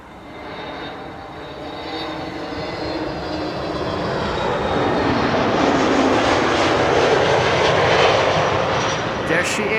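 An Emirates Airbus A380 arriving at Schiphol airport on runway 06, its engines a broad roar that swells steadily over several seconds and holds loud toward the end, steady and close.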